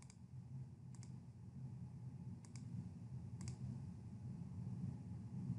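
A computer mouse clicks three times at a desk, each a sharp double-click standing out clearly over a low, quiet room hum with no talking.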